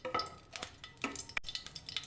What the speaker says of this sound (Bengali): কড়াইয়ে তেল দিয়েছি, তেলটা গরম হয়ে গেছে। এবারে একটা শুকনো লঙ্কা ফোড়ন দিলাম